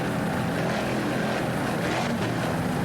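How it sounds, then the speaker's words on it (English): Race boat powered by twin 500-horsepower Mercury inboard engines, a loud continuous roar with wind and water noise, steady throughout without pauses. "Powered by two 500 horsepower Mercury inboards."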